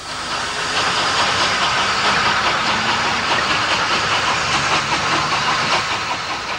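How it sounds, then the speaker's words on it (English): A Bulleid Pacific steam locomotive sets off in a steady, loud wash of hissing steam and rumbling with a faint rhythmic chuff, heard continuously throughout. "The Bulleid Pacific finally sets off for the south to reveal the famous locomotive works in the background."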